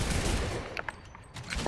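Automated turrets on a Fortnite aircraft carrier build fire in a dense burst of rapid gunfire, loud at first, thinning to scattered pops and then flaring up again at the end.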